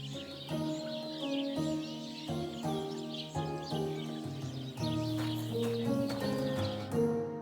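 A horse in the medieval video game Kingdom Come: Deliverance II, with hooves clopping at a steady walk amid outdoor ambience and faint birdsong over a soft music bed.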